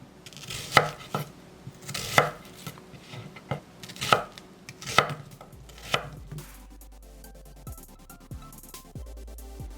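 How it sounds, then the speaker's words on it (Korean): A knife chops a small onion on a board in several sharp, evenly spaced strikes, then switches to quieter, quicker cuts with a faint background hum. "양파 작은 거 1개는 이렇게 썰어서"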